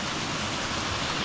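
A small waterfall in the Brecon Beacons, Wales, rushes with a dense, steady broadband roar, close and loud, unbroken throughout.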